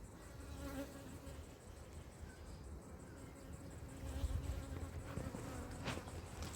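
Bees buzz around an open honey hive during a harvest, a soft, steady insect drone with individual bees droning closer now and then, heard outdoors without talk.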